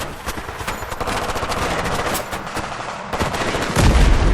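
Heavy automatic gunfire in a forest ambush in Battlefield 3, dense rapid bursts and overlapping shots rattling continuously at close range, growing louder near the end.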